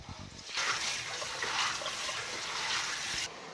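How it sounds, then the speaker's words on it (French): Plain water being poured into a cooking pot before beans go in to boil, a steady splashing, gushing pour that runs for about three seconds, close and loud, then stops abruptly. "This is just the plain water that I'm going to introduce my bean inside"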